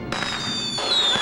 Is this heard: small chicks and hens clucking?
no